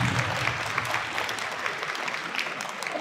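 Audience applause fills the room at a religious gathering, a dense, steady patter of many hands clapping that holds at an even level throughout without a clear break.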